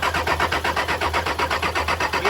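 A Nissan GU Patrol diesel engine with a newly fitted injector pump cranks on the starter motor in a close, loud, even rhythmic churn of about eight turns per second without catching.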